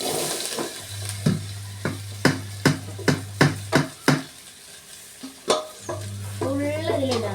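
Okra sizzles in a pan over a low flame while a spatula stirs it in a quick run of sharp scraping knocks, over a steady low hum.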